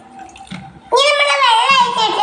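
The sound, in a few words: water being poured into a pot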